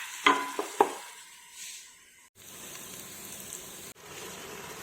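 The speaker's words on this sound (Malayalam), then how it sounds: "അരി ചേർക്കുന്നതിന് മുമ്പായിട്ട് കുറച്ച് കറിവേപ്പില ചേർത്ത് കൊടുക്കുകയാണ്." Curry leaves sizzling in hot oil while cooking chicken biryani, a few sharp clatters at first, then a steady close hiss and crackle that breaks off briefly and resumes, with no speech.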